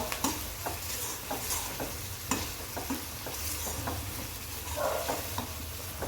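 Food frying and being stirred in an old, long-used family pan, with steady sizzling under repeated scraping and stirring strokes, close and continuous with no talk.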